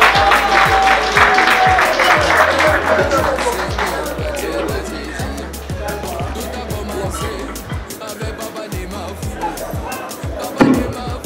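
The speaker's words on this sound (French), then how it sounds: "Applaudissez très fort" A crowd at a municipal installation ceremony in Batcham applauds the mayor with loud, dense clapping that gradually thins and softens, then ends with a sharp knock.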